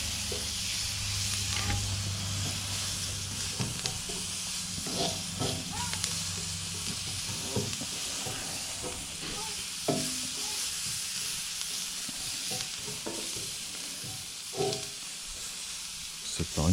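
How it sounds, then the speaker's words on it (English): Onions and butter sizzle on a Coleman tabletop grill, a steady close hiss of frying with scattered crackles and light scraping throughout, with no talk. "we're going to put some butter on this portion of the grill. And we're going to put some onions"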